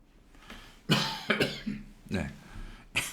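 Several harsh coughs and throat-clearing bursts come in a loose sequence, close and fairly loud, with short pauses between them.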